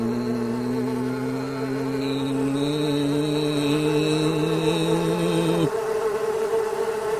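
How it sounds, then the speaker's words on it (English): A swarm of mosquitoes and black flies buzzing in a steady, close, high-pitched drone that holds for several seconds before cutting off abruptly, with no voices. "64 gazillion mosquitoes and black flies getting ready to come back"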